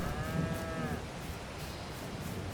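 A single drawn-out cow moo near the start, then a steady wash of background noise, from cows standing in autumn rain in the game Farming Simulator 22.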